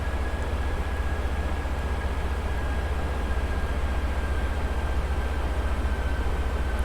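Loud, steady cabin drone of an Airbus A320 in a flight simulator, a constant low rumble with a thin whine held evenly from start to finish, no voices over it.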